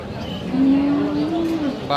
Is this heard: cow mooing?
yes